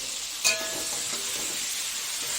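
Naga taro sizzles in a hot pan with spices and ground green chilies, a steady bright hiss with one sharp pop near the start.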